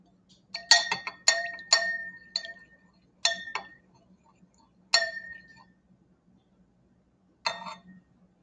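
A spoon stirs pepper in a glass of water, making a quick series of close, bright clinks against the glass, followed by a few scattered taps after short pauses.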